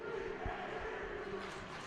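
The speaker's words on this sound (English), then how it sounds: "this Flower Mound crowd is a huge part as they're chanting to Marcus that they cannot hear them" Flower Mound high school basketball crowd chanting against Marcus, a loud, continuous mass of voices with a rhythmic, shouted quality and a few low thumps underneath.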